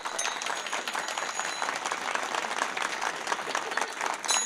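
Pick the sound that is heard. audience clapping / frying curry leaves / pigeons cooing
audience clapping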